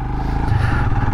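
A Royal Enfield Himalayan motorcycle runs nearby at low speed while turning to park, a close, steady engine thrum with faint clattering, no talk.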